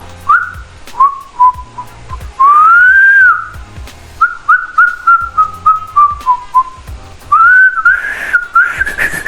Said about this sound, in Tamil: அதனால விசில்.